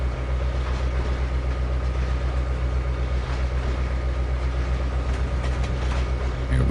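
Trainz 2022 train running as a loud, steady low rumble and drone with a constant rolling mechanical texture and faint clanks, close and unbroken, with no talking.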